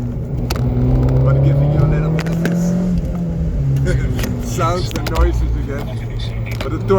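An Abarth 595c turbo engine with a Record Monza exhaust drones and rises under acceleration from inside the car, a steady loud engine tone with shifting pitch and light background noise.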